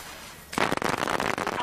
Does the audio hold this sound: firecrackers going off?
yes